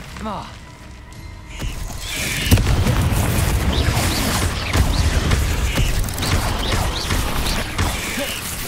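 Bombarda spell explosions in the video game Hogwarts Legacy, with booming blasts and crashing debris amid combat effects, loud and continuous, with voices and spell calls heard over the action.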